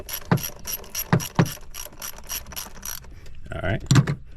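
Ratchet wrench loosening a fastener on a Chevy air intake during a PCV valve install, with several separate bursts of quick close clicking spread across the clip and a louder rattle near the end.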